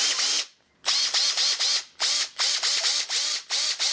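A repaired cordless Würth or Milwaukee drill, fitted with new brushes, whirs in loud close bursts, about seven short trigger pulls with brief gaps between them, and no voices.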